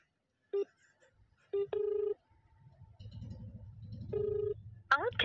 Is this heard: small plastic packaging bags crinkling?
no